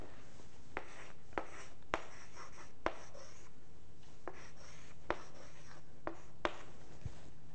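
Chalk tapping and scratching on a classroom blackboard in short separate strokes with pauses between them, fairly faint against a steady room hum, no talking.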